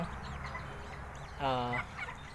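Farm chickens, several of them in poor health, let out one short, loud cluck over a low, steady farmyard rumble.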